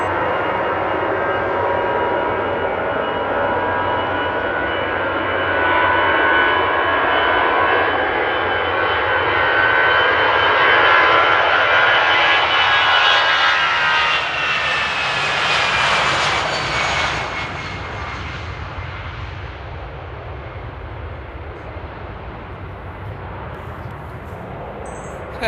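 An Aer Lingus airliner in rugby livery takes off at Amsterdam, its loud engine roar building steadily and sweeping past with a rising whine before fading into a distant rumble.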